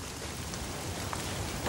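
Steady rain falling, a constant hiss of drops on surfaces with no voices.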